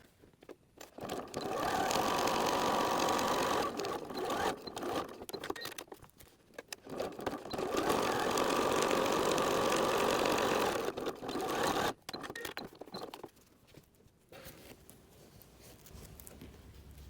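A sewing machine stitches the other side of a Velcro strip onto a seat belt cover, running in two long steady bursts with short pauses and handling noise between them.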